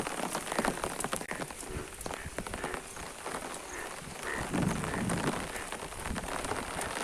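Heavy monsoon rain pours down in a village, a dense steady hiss of drops drumming on surfaces close by, with scattered louder splashes and no talking.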